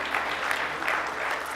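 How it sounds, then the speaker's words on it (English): A round of applause from an audience at a spiritual teaching talk, brief steady clapping with no voice over it. "I think that deserves a round of applause as well."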